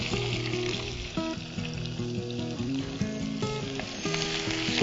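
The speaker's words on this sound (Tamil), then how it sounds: "கொஞ்சமாக இடித்து வச்ச சின்ன வெங்காயத்தை ஆட் பண்ணுறேன்." Crushed shallots frying in hot oil in a pan, a loud steady sizzle heard alone, with a sustained musical background tone running underneath.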